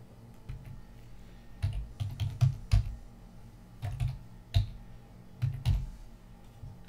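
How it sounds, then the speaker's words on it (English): An IP address being typed on a computer keyboard, bursts of close, crisp key clicks in irregular clusters with short pauses, no talk. "you're going to type in the IP address of the server that you want to remote desktop into"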